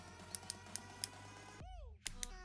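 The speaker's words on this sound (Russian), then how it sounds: "Щелчки выражены и хорошо слышны при переключении" Torque collar on a DEKO 20V cordless impact drill being turned, giving a few sharp, distinct clicks spaced apart, up close, with a brief whirring burst from the drill between them.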